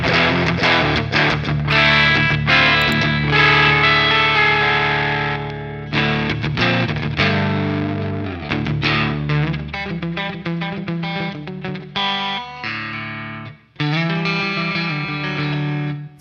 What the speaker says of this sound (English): So we got some crunch with reverb.